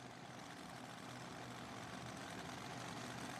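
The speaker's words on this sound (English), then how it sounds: "So we hear the engine fire." A pulling tractor at a truck and tractor pull event idles with a steady, heavy low rumble that stays even and fairly faint throughout.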